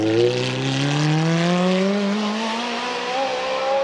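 A fearsome 430 coupe race car climbs the Prescott championship hill climb, its engine revving loud and close and rising steadily in pitch through the gears with no pause.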